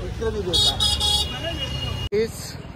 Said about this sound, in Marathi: बघा या ही झाली परत ट्रॅफिक जाम.